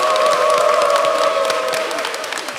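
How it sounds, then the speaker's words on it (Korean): A crowd at a national reunification rally bursts into loud applause and cheering, close and energetic. Dense clapping runs throughout under a sustained shouted whoop that carries above the noise, fading slightly toward the end. "참석하신 모든 분들의 뜨거운 박수와 함성으로"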